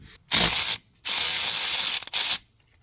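A ratchet wrench clicks as it loosens a 10 mm bolt on a 2016 Kia Sportage battery, in three loud, close bursts of rapid ratcheting separated by short pauses, with no talking.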